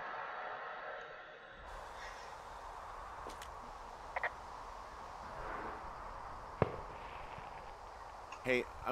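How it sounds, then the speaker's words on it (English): Scattered distant fireworks pop and crackle in the Firewatch video game, a few sharp bursts spread across an otherwise quiet forest ambience, with a louder cluster of bangs near the end. "Those fireworks are going off to the west of you."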